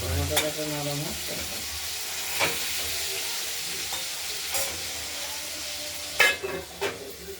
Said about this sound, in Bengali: হলুদ দিয়ে গুলে তারপর কষানোর জন্য দিয়ে দেবো